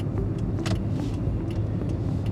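A car accelerates during a practical driving lesson on a training ground, its engine giving a steady, close rumble inside the cabin with no talking.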